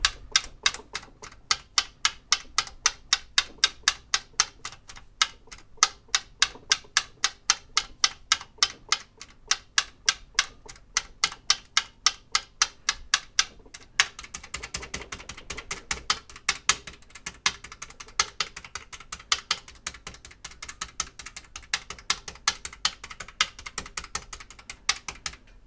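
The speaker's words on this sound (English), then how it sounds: "we just press the buttons a few times" Buttons on a Sharp VZ-3000 cassette player pressed over and over, giving a long run of sharp, evenly paced mechanical clicks and clacks, close and loud, that turn faster and busier toward the end with no talking.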